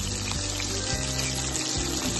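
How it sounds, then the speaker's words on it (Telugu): Onions fry in oil in a kadai with cinnamon, cardamom and cloves, a steady loud close sizzle that continues without a break. "కరిగిన ఉల్లిపాయలు"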